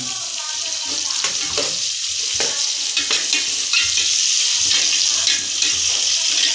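Chopped onion sautés with garlic in a pan for Filipino ginisang mais, giving a loud, steady sizzle with occasional scrapes of stirring.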